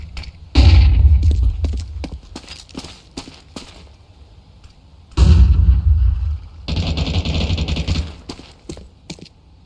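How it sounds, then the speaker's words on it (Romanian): Two sharp, booming bursts in a Counter-Strike 2 match, each a loud bang followed by a bright ringing hiss that lingers for a few seconds, with clicks and small thuds between them. "Deploying flashbang."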